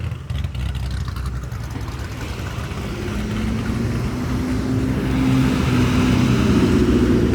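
Loud modified 3-valve Ford V8 cars, one fitted with a Vortech supercharger, roll past on wet roads at a car meet, their deep engine drone swelling steadily louder as they approach.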